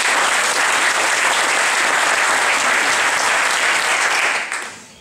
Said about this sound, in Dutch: En houd dat vast, dat applaus.